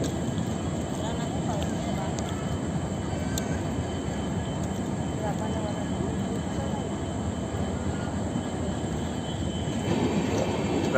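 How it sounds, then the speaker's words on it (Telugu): A train passes right behind people at a railway station on a journey to Tirupati, giving a steady, loud rumble of wheels and carriages that holds unbroken for the full length, with faint squeals from the rails. "రైలు పోతుంది మా వెనక."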